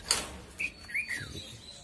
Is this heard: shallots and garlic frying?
no